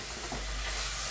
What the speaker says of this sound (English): I had some big onions, so like a half a yellow onion, and I'm gonna saute it by itself